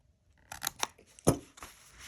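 Scissors cutting a piece of paper for a vintage-style junk journal: several crisp snips close by, with one heavier crunching cut in the middle and a light rustle afterward.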